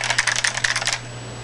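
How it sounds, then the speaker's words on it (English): Rapid keystrokes clatter on a computer keyboard for about a second, close by, then stop, leaving a faint electrical hum. "I start typing,"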